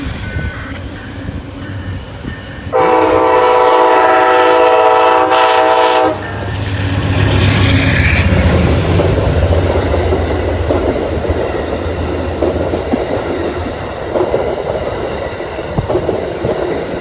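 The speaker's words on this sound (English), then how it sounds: "Here comes Amtrak." An Amtrak passenger train passes through Gallitzin, Pennsylvania: a loud, close horn blast sounds for a few seconds, then a heavy rumble with rhythmic clickety-clack of wheels rolls on steadily.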